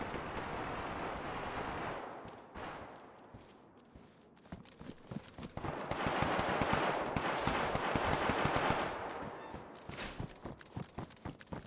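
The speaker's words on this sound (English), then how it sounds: "there's nades going off over there" Grenades going off in the video game DayZ, bursts of rumbling explosions and crackling impacts heard at moderate distance, rising and falling across a dense stretch of gameplay noise.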